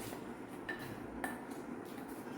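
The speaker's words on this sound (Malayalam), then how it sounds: "ഇനി നമുക്ക് രണ്ടും കൂടെ നന്നായിട്ടൊന്ന് മിക്സ് ചെയ്ത് കൊടുക്കാം" A spoon clinks and scrapes against a bowl while a paste of panikoorka leaf juice is stirred in, with a few light metallic taps, quiet and close.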